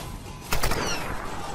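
Enemy gunfire in Tomb Raider, a single short crack of a shot in the middle followed by a brief rattle, set against a steady ambient game background; no talking.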